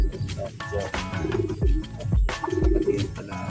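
Racing pigeons cooing close by, with repeated soft warbling coos over a steady background din.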